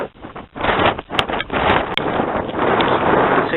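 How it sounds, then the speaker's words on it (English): Strong gale-force wind buffets the microphone on an exposed moorland ridge top near Hebden Bridge, a loud, continuous roaring rush with gusty swells and occasional sharp bumps. "Almost a gale blowing up here on the ridge top."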